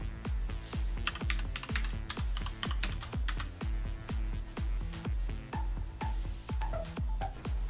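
Quick, fairly regular keystrokes clatter on a computer keyboard as a new password is entered on a Windows 11 PC, close and clear with no voices.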